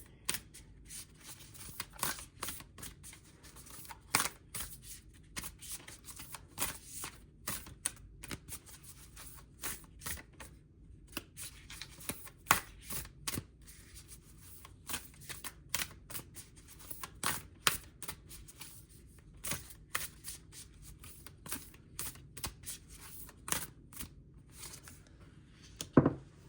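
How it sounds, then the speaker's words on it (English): Cards being shuffled over and over, a run of crisp riffling clicks and flutters with sharper snaps in between, close and fairly quiet. "I'm just going to go ahead and shuffle the cards"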